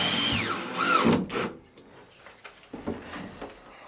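A cordless power drill drives screws into a wooden playhouse frame, a loud rising whir in the first second and a half followed by quieter handling clatter and short bursts, close up.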